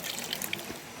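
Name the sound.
hands being washed in waterfall water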